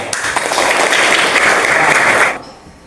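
Students clap together in a classroom, a loud, even burst of many hands that runs for about two seconds and then stops abruptly, leaving a quiet room.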